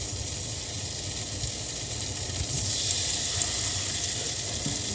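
Potatoes frying in a pan for breakfast give a steady, close hiss and sizzle that runs without a break and swells slightly partway through.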